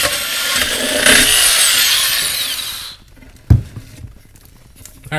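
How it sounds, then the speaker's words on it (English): A power drill whines loudly, pitch shifting as it bores holes through the metal of a hot tent stove, then stops; a sharp clank and quieter handling noises follow. "Let's drill the holes in the stove next."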